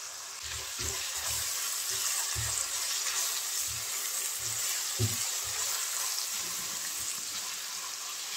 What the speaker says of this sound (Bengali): মশলাটা একটু ভেজে নেব যাতে কাঁচা গন্ধ চলে যায়।